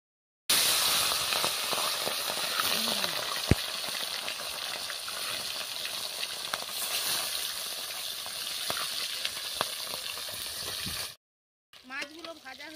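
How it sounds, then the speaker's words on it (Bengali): Pieces of fish frying in oil in a pan, a dense continuous sizzle with occasional spatters and utensil clicks, a voice briefly heard after the frying stops. "এই যে লাল লাল করে ভেজে নিয়ে এবার তুলে নিচ্ছি।"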